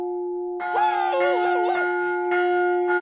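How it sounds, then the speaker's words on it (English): A giant bell rung loudly over the heads of new scout recruits in a South Park cartoon gives off a heavy, sustained metallic clang with wavering, warbling overtones that swell and then fade. "the new recruits undergo an initiation ritual that involves giant bell being placed over their heads and rung loudly"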